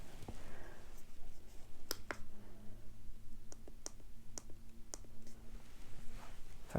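A kitchen timer is set for five minutes with a handful of sharp, separate clicks spaced irregularly over a quiet background hum, with no speech.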